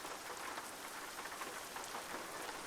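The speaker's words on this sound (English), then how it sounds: "it sounds like it's raining" Rain falling in the truck driving game American Truck Simulator, a steady dense patter of drops holding even and moderately loud throughout, with no voices.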